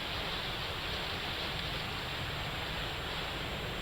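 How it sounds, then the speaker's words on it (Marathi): Heavy rain falls over a dam catchment area near Kolhapur, a dense, unbroken hiss that stays loud and even throughout. "धरण क्षेत्रात मुसळधार पाऊस सुरू आहे"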